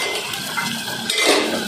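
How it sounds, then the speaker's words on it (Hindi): A metal lid lifted off a pot of lemongrass kahwa simmering in a village kitchen, with a clink and clatter of pots and utensils over a steady hiss of boiling. "दो मिनट के बाद अब इसका ढक्कन उतारते हैं।"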